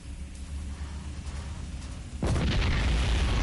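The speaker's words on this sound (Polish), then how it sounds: "sprzedany bunkier wybucha w tym momencie" A bunker explodes in the StarCraft video game, a sudden loud burst about two seconds in that jumps over a steady game background and stays as a dense, roaring blast to the end.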